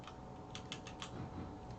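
Quiet close typing on a computer keyboard, a short irregular burst of light key clicks over a hum of background noise.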